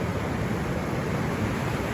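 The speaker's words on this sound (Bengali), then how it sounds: "অজস্র ঢেউ" Sea waves breaking on the beach at Mandarmani under a cloudy sky, a steady broad wash of surf with a touch of wind, continuous and fairly close.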